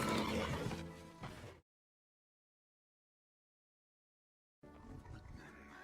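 Horse neighing from a Lord of the Rings film scene, a loud whinny in the opening moments, then several seconds of silence before a rougher, roaring animal call returns near the end.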